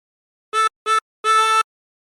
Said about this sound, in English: Breathe in through 2 3 times.